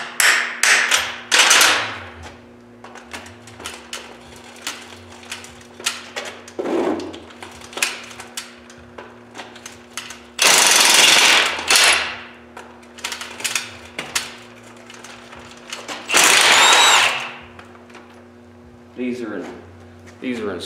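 Sharp metallic hammer blows strike an NV273F transfer case during teardown, coming as several loud, close bursts and quick taps spread across the stretch, with someone talking between them.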